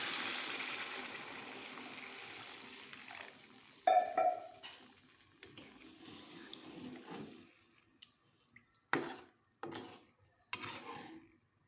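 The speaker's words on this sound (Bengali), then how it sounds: "এখন আমি পরিমাণ মতো জল দিয়ে দেবো।" Water is added to a pot of river fish and potato curry, with a short splash followed by scattered stirring, scraping and clinking against the pan, close and without talk.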